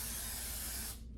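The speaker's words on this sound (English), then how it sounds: "spray it like that" Extra hold hairspray hisses from an aerosol can in one steady blast of about a second, loud and close, then cuts off.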